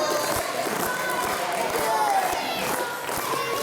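Wrestling crowd in Lincoln at a live show, a steady roar of cheering with scattered claps and thuds from the ring, under a commentator talking.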